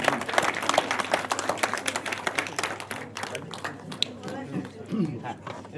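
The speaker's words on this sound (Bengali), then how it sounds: "আপনাদের জন্য একটা হাততালি হোক," Audience clapping at a fifty-day celebration event with film stars, dense crowd applause mixed with voices and chatter, fading somewhat after the first few seconds.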